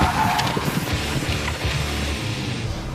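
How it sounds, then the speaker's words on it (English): A car pulls its handbrake into a 180-degree spin-out on a driving test course, its tires skidding and squealing loudly and continuously under a roaring engine. "Canada's worst drivers have learned how to do a 180-degree spin-out by pulling their handbrake"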